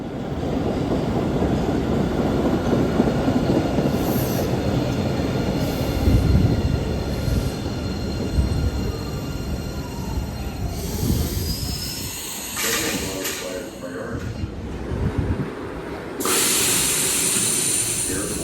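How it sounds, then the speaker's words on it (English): Siemens-built 700 series MBTA Blue Line subway train arriving, a loud steady rumble of wheels on rail with squealing and hissing brakes toward the end, close by in the station. "Here comes a 700 series train, built by Siemens and in service since 2008."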